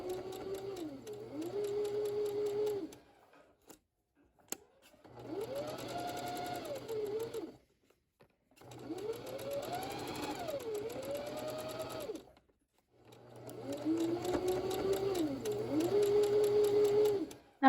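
A sewing machine stitches around the folded curved edge of fabric for wrap pants, running in four bursts of steady rapid whirring separated by short pauses, close and fairly quiet.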